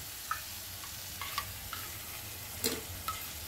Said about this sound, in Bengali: এবারে এর মধ্যে আমি দইটা দিয়ে দেব, ফেটিয়ে রাখা।